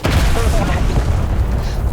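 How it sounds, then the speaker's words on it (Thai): A deep, rumbling explosion in War Thunder booms loudly, with a crackling blast that fades into continuous low noise, overlapped by excited voices. "ระเบิด"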